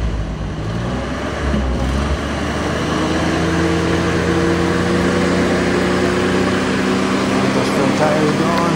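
A vintage Willys Jeep labours off-road with its front tires spinning. The engine drone is loud and close, and it climbs steadily in pitch as the revs build.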